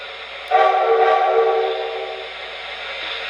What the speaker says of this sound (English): The SFS key, for example, does the forward signal.